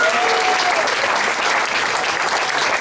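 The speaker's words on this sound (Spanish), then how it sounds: "Un aplauso." Steady audience applause at a Spanish-language book presentation, dense clapping from a seated crowd with a faint whistle or voice early on, continuous and fairly loud throughout.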